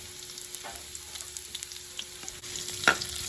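Garlic and onion frying in hot oil in a home kitchen while cooking pesang tilapia, giving a steady low sizzle with a brief sharp crackle and stirring clatter near the end, no talking.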